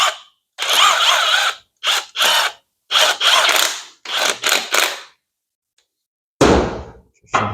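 A torque wrench is used on the engine bolts of a 5.3 LH8 Hummer Alpha during overhaul assembly, making loud, close ratcheting clicks in short bursts separated by pauses, followed by a metallic clunk.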